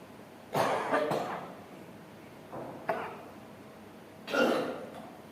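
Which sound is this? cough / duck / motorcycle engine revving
cough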